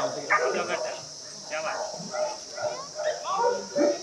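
Police dogs at a dog race give short yelps and whimpers in scattered bursts against steady outdoor background noise during a Tihar festival event in Nepal.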